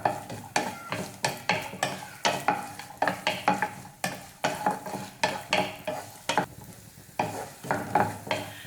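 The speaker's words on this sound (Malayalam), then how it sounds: "ഇനി ഇതൊന്ന് വറുത്തെടുക്കാം." Coconut pieces being roasted in a pan for Kerala-style aval vilayichathu, with a spatula scraping and stirring in quick regular strokes over a steady close sizzle, no voices.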